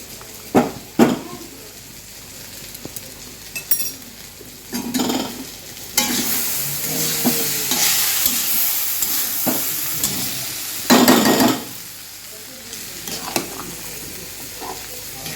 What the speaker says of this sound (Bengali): এখন ঘিটা দিয়ে নাড়াচাড়া করে নেব